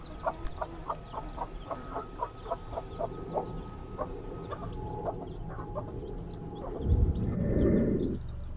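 Caged chickens cluck steadily in a short, repeated rhythm at moderate distance, with faint bird calls in the background and a burst of rustling, shuffling noise near the end.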